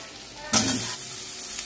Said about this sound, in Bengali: একটু জিরে ফোড়ন আর হিং ফোড়ন দিয়ে তরকারিটা চাপাবো